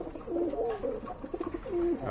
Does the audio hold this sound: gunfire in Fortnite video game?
no